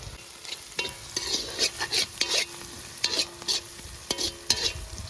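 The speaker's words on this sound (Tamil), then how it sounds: "வெங்காயம் வதங்கிச்சு" Onions sautéing in a pan for a village-style South Indian egg curry, with a steady sizzle and repeated spatula stirring scrapes in irregular bursts, close and clear without talk.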